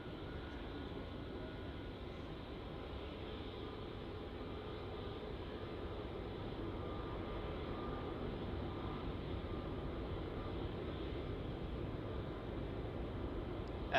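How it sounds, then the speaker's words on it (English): A Jetstar Airbus A321ceo departs Melbourne Airport for Perth, its engines a steady, broad roar from a distance that builds gradually over the whole stretch. "Departing now, we have Jetstar flight JQ970 off to Perth. It's an A321"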